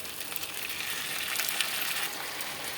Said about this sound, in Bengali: আলু পেঁয়াজটা ভাজা হচ্ছে, তার সঙ্গে আমি কচু সেদ্ধটাও দিয়ে দিলাম, একসঙ্গে ভাজবো